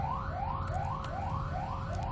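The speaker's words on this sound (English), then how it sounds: "sirens coming around" Siren in the distance during a Duskers game session, a repeating rising wail heard in quick, even cycles with a brief bump at the very end.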